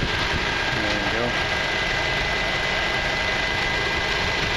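A 2012 Chevy Cruze Eco's 1.4 liter Ecotec turbo engine idles under the open hood with a steady, even hum and a faint high whine, no speech over it.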